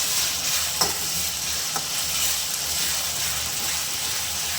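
Ginger garlic paste sizzling in a hot pan for egg gravy, a steady close frying hiss broken by a few soft scrapes of a spoon stirring.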